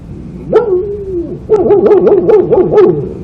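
A voice actor imitates a dog using the back of the throat, giving one drawn-out whine followed by a rapid run of yapping barks, loud and close.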